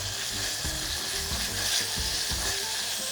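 Thin slices of beef brisket fry in a pan over medium heat, giving a loud, dense, continuous sizzle with soft stirring scrapes throughout.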